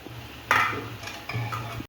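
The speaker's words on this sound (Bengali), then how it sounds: "মাংসটা মাঝে মাঝে খুলে একটু নাড়িয়ে দেবো" Mutton curry being stirred in a cooking pot, with two short bursts of spoon scraping and clinking against the metal, close and moderately loud, separated by quieter pauses.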